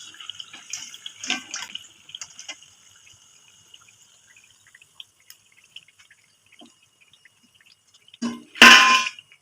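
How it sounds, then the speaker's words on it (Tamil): Crispy fried thattai, a flat rice snack, are dropped onto a plate, giving sparse light clinks and taps, then a sharp, louder clatter near the end in an otherwise quiet kitchen. "தட்டில் போடும்போதே கடக்குன்னு சத்தம் கேட்குது."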